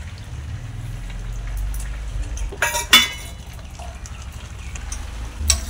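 Fried katla fish head is stirred into a wet spiced masala in a cooking pan, giving a soft, close simmering hiss with a few sharp clanks and scrapes of the spoon against the pan, and no voices.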